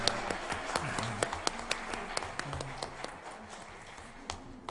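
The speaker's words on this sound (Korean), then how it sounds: "우리 가족들 예, 박수로 축하해 주시기 바라겠습니다" A church congregation applauding together, a scattered patter of claps from many hands that holds steady and then thins slightly toward the end.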